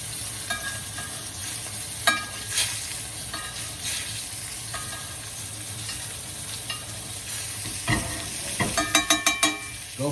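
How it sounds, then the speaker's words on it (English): Sous vide steak searing in a hot pan while being basted, a constant loud sizzle broken by spoon scrapes and a quick run of rhythmic spattering bursts near the end. "Gonna do a little basting here."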